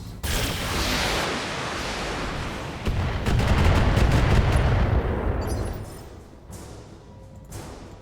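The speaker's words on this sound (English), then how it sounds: "First exchange of fire between the two sides." Heavy mech weapons fire in a Battletech battle: loud rapid bursts of gunfire and booming cannon shots in a dense barrage, peaking midway before tapering into scattered distant shots.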